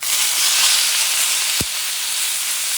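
A steak is flipped in a hot pan of rendering fat, giving a loud, steady sizzle with one soft knock partway through as the meat turns over.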